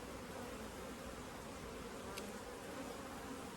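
A honey bee colony buzzes loudly from an open hive, a dense steady hum that fills the scene without a break and with no talking.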